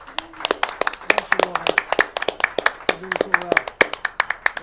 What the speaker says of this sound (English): There's a round of applause for all my young interns